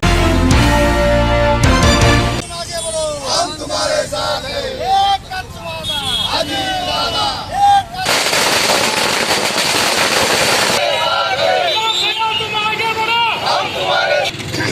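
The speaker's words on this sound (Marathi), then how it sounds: "भव्य फटाके फोडून जल्लोष करण्यात आला" Firecrackers burst loudly at a political party celebration, with dense rapid crackling and bangs running through the clip beneath a crowd's noisy chatter and cheering.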